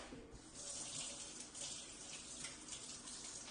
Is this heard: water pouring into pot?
yes